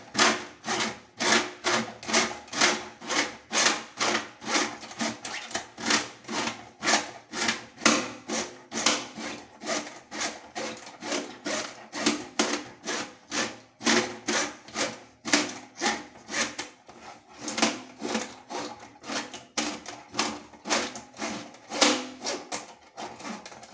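A pipe cleaner pushed and worked into a clogged drain gives a steady, rhythmic scraping and rasping, repeated strokes in quick succession throughout, close and fairly loud with no talk.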